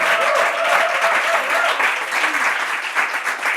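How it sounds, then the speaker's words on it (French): Audience at a Bible quiz event breaks into steady, full applause, a dense wash of clapping that holds evenly from start to finish. "On applaudit."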